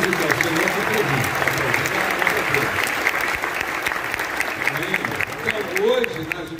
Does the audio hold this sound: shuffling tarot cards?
no